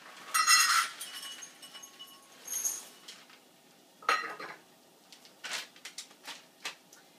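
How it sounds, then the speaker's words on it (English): Chocolate morsels are measured out into a measuring cup, bursts of small hard pieces clinking and rattling against the cup, with pauses between pours, then several short tapping clinks, close and clear with no talking. "just measure out about a cup of the chocolate morsels"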